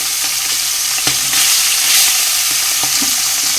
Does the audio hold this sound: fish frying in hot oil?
yes